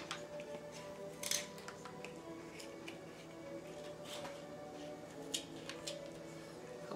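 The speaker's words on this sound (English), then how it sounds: "I will just take a kitchen scissors and just trim off the edges" Kitchen scissors snip the thorny leaf tips off a raw artichoke, giving faint, sparse clicks and crisp cuts at irregular intervals against a quiet room hum.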